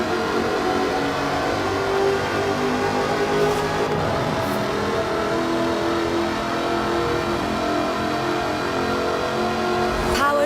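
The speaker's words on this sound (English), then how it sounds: "Powered by a 5-litre V8 supercharged engine, with a fully aluminium body, it's blisteringly fast" A supercharged 5-litre V8 engine in an aluminium-bodied car in Forza Horizon 4, droning loudly and continuously at high revs with a dense, steady roar, and a brief rising surge near the end.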